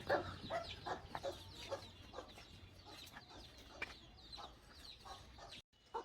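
Chickens and their chicks cluck softly in short, scattered calls over a low farmyard background, with no talking.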